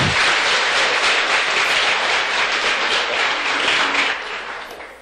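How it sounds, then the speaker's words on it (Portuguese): Loud, sustained applause from a large lecture audience, thick and continuous, tapering slightly toward the end. "Uma salva de palmas para ele, vamos lá?"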